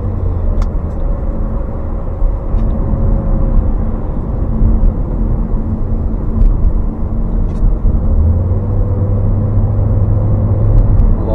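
Inside a Rover 75 car while driving, a steady low road and engine rumble with soft tyre noise and faint occasional clicks, even and continuous throughout.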